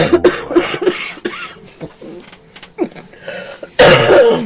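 A man coughs and clears his throat in short bursts between low talk, ending with a louder harsh cough, close and fairly loud.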